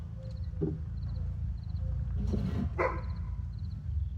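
A dog barks somewhere off to the side in a quiet outdoor setting during work on an old 1960 Jacobsen push mower, giving a few short, faint, scattered barks over low background rumble.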